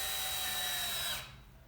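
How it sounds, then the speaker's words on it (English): A power drill whirs at high speed twisting two wire ends together, a loud steady whine lasting about a second before spinning down abruptly to quiet. "Pull the wires tight and use your drill to twist them."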